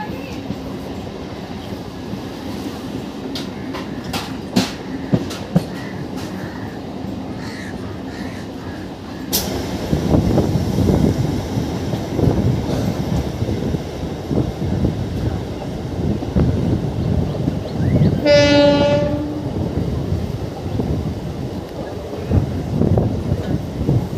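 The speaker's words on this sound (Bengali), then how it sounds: "সবুজ জঙ্গলের মাঝখান দিয়ে হেঁটে চলেছে দুরন্ত গতিতে লোকাল ট্রেন" A local train on the Howrah–Amta line runs through green forest, a steady loud rumble and clatter of wheels that swells after the first third, with a brief horn-like tonal burst near the end.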